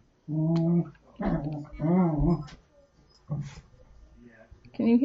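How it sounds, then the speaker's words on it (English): Dogs growl and whine in short bursts as they scuffle playfully together, fairly close and loud, with pauses between the outbursts. "Can you hear my dogs fighting with each other?"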